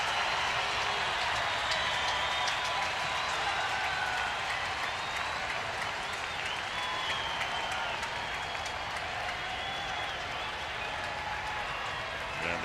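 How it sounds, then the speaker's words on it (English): A big crowd at a Mets–Giants baseball game roars and claps in a steady, dense wash that stays loud throughout, with faint talk running beneath it. "And now the crowd comes to life"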